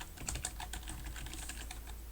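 Rapid, steady keystrokes on a computer keyboard as a command line is typed, close and fairly quiet, with a low hum underneath and no talking.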